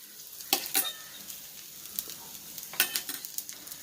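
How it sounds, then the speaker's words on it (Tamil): Oil sizzles quietly in a pan while ragi roti cooks, with scattered crackling pops and short bursts of frying hiss over a low, faint background. "எண்ணெய் ஊற்றிக்கலாம்."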